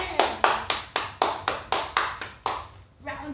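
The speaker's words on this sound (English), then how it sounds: "Round of applause" Sharp, evenly spaced claps ring out at a Rubik's cube presentation, about ten loud strikes in a quick steady rhythm before the clapping thins and fades near the end.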